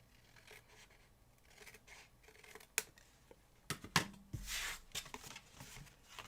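Scissors cutting paper into a hexagon for a gate-fold Christmas card: a quiet, irregular series of close snips and crisp paper rustles, growing busier toward the end.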